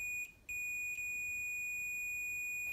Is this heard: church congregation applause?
no